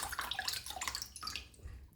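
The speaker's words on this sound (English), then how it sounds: "So that coconut water, this is the coconut water, but I'm going to strain it off." Fresh coconut water is strained through a fine strainer, giving a faint, continuous trickle and splash of liquid with small drips and gurgles.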